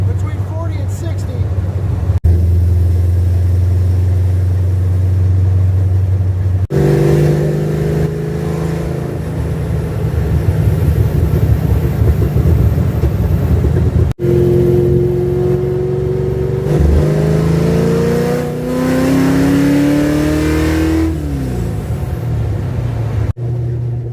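An old car parked since 1999 and driven for the first time in 27 years, its engine droning steadily and revving up through loud accelerations, with rising pitch sweeps as it gathers speed, heard close and continuous throughout.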